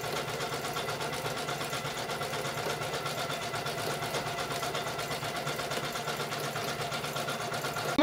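An embroidery machine stitching a lace/crochet-style design directly onto fabric, a steady fast mechanical hum and rhythmic needle chatter running continuously and close without pauses.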